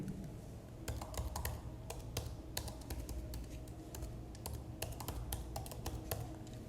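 A computer keyboard clicks in irregular bursts of typing over a faint steady background hum, with sharp individual keystrokes and no talk.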